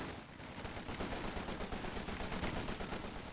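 Dense, rapid machine-gun fire from the strategy game Company of Heroes 2 rattles on without a break, a constant stream of shots at moderate loudness.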